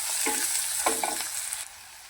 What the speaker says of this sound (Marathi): तर ह्याला आपण 2 मिनिटं परतून घेऊया।